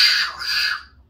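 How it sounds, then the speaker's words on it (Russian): A single harsh, raspy bird call, loud and close, lasting about a second before fading out. "Ворона."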